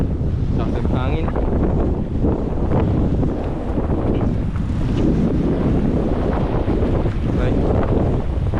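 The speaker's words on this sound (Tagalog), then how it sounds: "Lakas ng hangin." Strong wind roars across the microphone on a boat at sea near an island, a constant loud rush blended with wave noise, with faint voices underneath.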